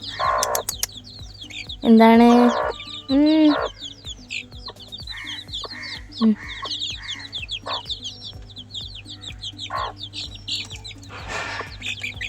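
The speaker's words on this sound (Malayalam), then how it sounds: "നമ്മുടെ വീട്ടിലെ കോഴിക്കുഞ്ഞുങ്ങൾ കേട്ടോ" Chicks cheep in quick high chirps, mixed with a hen's clucking nearby, and a person briefly speaks in the middle.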